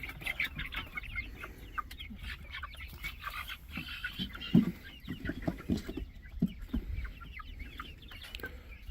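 Young silkie chickens, including roosters, being moved to an outdoor pen give a busy, continuous stream of clucks and chirps, with a few louder close calls standing out against shuffling movement.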